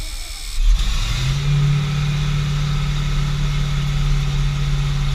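A grain truck engine idles roughly, then rises into a steady, loud drone as it is revved, the low steady tone holding close and continuous without any talking.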